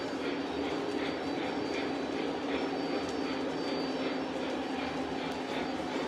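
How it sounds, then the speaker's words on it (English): Model trains running on a layout with a weathered car, a faint continuous rolling rumble with soft repeating clicks of wheels over track joints. "We're gonna run some trains for a bit more"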